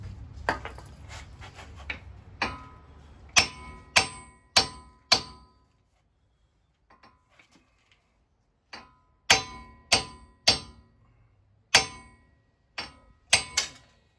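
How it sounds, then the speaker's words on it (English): A hammer strikes a wheel stud on a 2015 or later Subaru WRX, sharp metallic clangs ringing out close by in uneven bursts of several blows, separated by quiet pauses and faint handling noises. "now we're gonna hammer this out"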